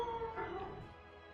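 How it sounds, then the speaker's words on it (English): Several dogs howl and whimper in an excited chorus, loud at first and trailing off within a second and a half, with no talk over them. "My hand is full, and the dogs are going insane."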